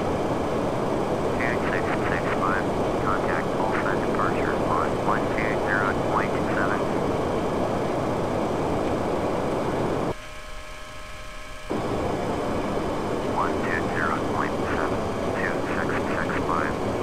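A PMDG 737-800 airliner climbs out after takeoff in a flight simulator game, its engines giving a steady broadband roar that briefly drops away for about a second before resuming.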